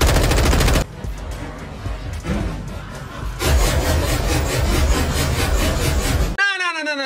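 Rapid automatic gunfire in Call of Duty Modern Warfare 2 at a LAN event comes in dense, loud bursts with a quieter stretch in between, ending in a sudden cut to a short electronic tone.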